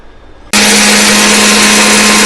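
A mixer grinder loaded with roasted black urad dal starts abruptly after a moment of quiet and then runs at a loud, steady, high-pitched whine.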